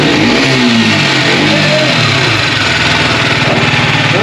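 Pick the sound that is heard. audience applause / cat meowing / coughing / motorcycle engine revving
motorcycle engine revving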